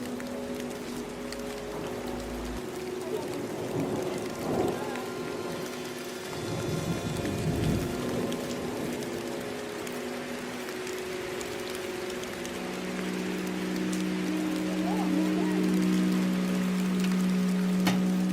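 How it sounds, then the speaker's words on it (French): Steady rain patters down in an English village during a UK road trip, a continuous soft hiss of drops on surfaces, with a low engine-like hum running underneath and no talking. "Les filles, il pleut."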